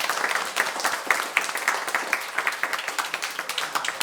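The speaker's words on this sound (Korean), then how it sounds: "우리를 예배 자리로 인도하신 하나님께 감사의 영광의 박수를 한번 드리시죠" Congregation applause during a Korean church worship service, moderately loud, with distinct individual claps in an irregular rhythm sustained throughout, no talking over it.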